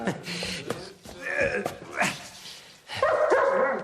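A dog barks and whines close by in a short, busy scene, with a few yips mixed among voices talking over it.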